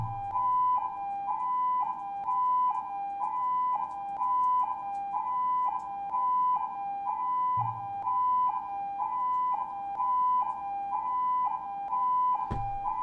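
Ambulance siren from the Danganronpa 2 video game, a steady repeating two-tone wail cycling about every half second, loud and continuous for the whole stretch, with a couple of low thumps and a sharp click near the end and no talk.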